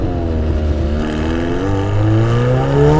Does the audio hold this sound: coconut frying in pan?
no